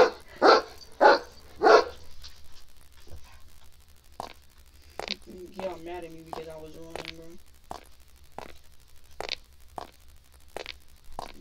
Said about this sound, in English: try not to worry about my dog.